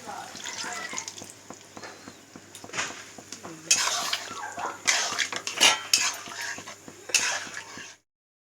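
Paneer stirred in a pan for chilli paneer, with repeated metal spoon scrapes and clanks against the pan over a light sizzle, growing louder and busier in the second half before cutting off.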